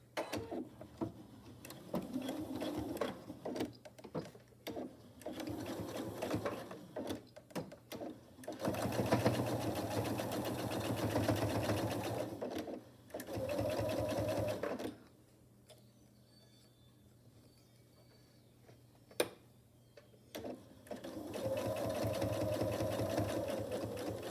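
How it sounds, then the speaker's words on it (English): A home sewing machine stitches a seam on a cloth face mask casing using a 3/8 inch presser foot, running in bursts of rapid mechanical whirring separated by short pauses, one longer gap of near quiet midway. "I'm going to use my 3/8 inch presser foot to sew that seam"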